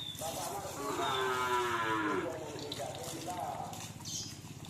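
A cow mooing in a cattle pen. One long, drawn-out low moo sounds fairly close, with faint background voices and farm noise.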